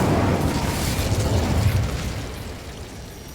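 Incendio fire spell cast in Hogwarts Legacy, a loud whooshing burst of roaring flame that sustains as a thick rumble for about three seconds and then slowly fades, with no talk over it.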